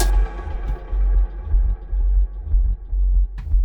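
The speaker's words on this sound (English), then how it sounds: "This was initially just a pitched down and resample version of" A raw, pitched-down resampled synth line from a DYAD patch, meant as sub bass for a hypnotic techno track, throbs as a deep pulsing rumble with smeared, fading upper tones, continuous and loud.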